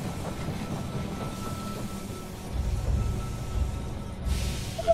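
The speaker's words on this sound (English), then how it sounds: "The train has arrived at the station." A train rolls into a station in the strategy video game They Are Billions, a low rumbling and clattering that swells midway and stays moderately loud under game ambience.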